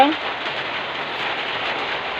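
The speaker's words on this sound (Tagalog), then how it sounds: "So, maulan." Steady rain pours on a surface outside a small shop in a flooding, waterlogged street, a dense close hiss of falling water throughout.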